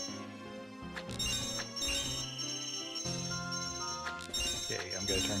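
A mobile phone ringtone plays a bright melodic chiming pattern that repeats several times, close and clear, over a game-stream background with music-like tones.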